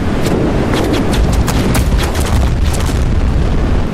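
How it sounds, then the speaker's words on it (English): Howitzers firing in a video game, a loud, continuous rumble of heavy booms with repeated sharp blasts stacked closely together, no voices. "stop shooting my howitzers off"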